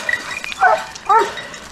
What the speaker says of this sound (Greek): Ώρα πέρασαν τα σκυλιά εδώ.